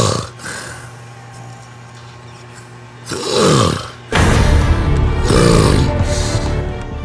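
A man snores loudly in long, rasping bursts with deep gasping inhalations, two big surges separated by quieter breathing, with no talk.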